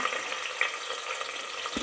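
Chopped onions hit hot oil in a cooker and fry with a steady, bright sizzle that continues evenly throughout, close and fairly quiet, with no talking.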